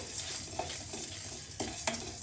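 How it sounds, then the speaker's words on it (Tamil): Mutton liver frying in a pan while a utensil stirs and scrapes it, giving a steady close sizzle broken by a few sharp clinks and scrapes of metal against the pan. "தீயாமல் வறுத்துக்கோங்க அந்த வாசனை வர வரைக்கும் வறுத்துக்கலாம்"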